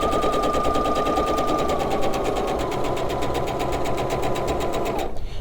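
A sewing machine stitches a quilt block in a steady, rapid needle rhythm, loud and close, running continuously before stopping abruptly near the end.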